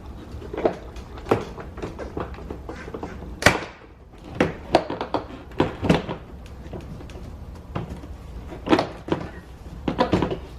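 Car door panel push pins being pried loose with a tool, a series of sharp pops, clicks and thuds at irregular intervals, fairly close and loud with quiet gaps between.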